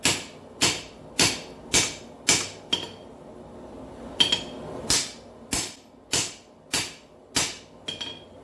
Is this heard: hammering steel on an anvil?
yes